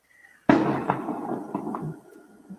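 Fireworks go off with a sudden loud burst, followed by a scatter of crackling pops over about two seconds that fade into a low rumble. No one speaks.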